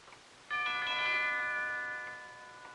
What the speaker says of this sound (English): He just rang the bell again and then stood there.